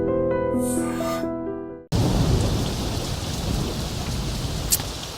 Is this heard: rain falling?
yes